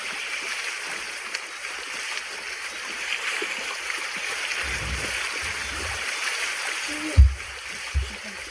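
A river flows with a steady wash of water while a foal lies in it, and a few close splashes break through near the end.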